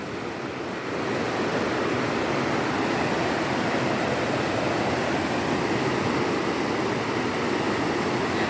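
Strong floodwater rushes steadily past, a dense, loud and continuous roar of turbulent current with no break, close by and without any voices.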